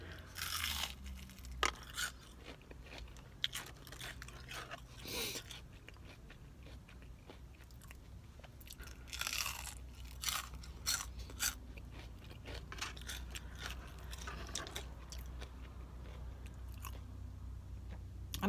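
Jack in the Box fast food is chewed and crunched up close inside a parked car, with irregular bites and wet mastication throughout, quiet and intimate, no talking.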